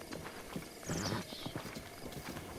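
A horse gallops in The Legend of Zelda: Breath of the Wild with steady, rhythmic clip-clop hoofbeats and a brief whinny-like swell in the middle, all fairly quiet in the game's background.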